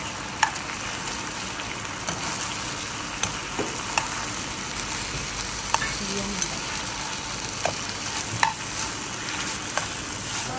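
Chicken frying in oil in a pan on a home stove sizzles steadily, with occasional stirring clinks and scrapes from a utensil, close and moderately quiet, with no talking.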